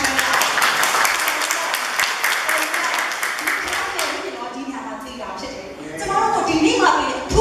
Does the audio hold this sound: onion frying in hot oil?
no